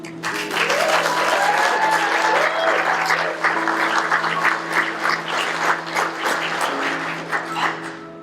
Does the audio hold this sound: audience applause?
yes